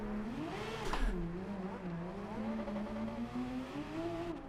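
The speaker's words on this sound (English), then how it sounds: "I've always wanted to drift my Porsche GT3 RS on snow" Porsche GT3 RS in the Gran Turismo 7 racing game, drifting on snow, its engine note rising and falling steadily in pitch under a brief tire squeal, moderately loud and alone.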